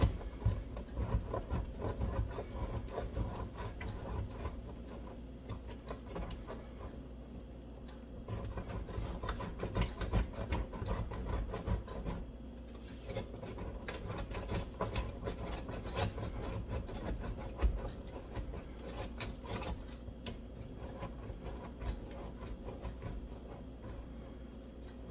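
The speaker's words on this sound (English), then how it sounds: "I'm going to just grate this on the coarse side here." Cheese is rubbed against the coarse side of a hand grater, producing close, dry rasping scrapes in quick rhythmic strokes that continue in bursts, with brief pauses between.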